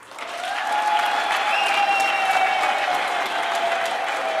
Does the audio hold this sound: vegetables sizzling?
no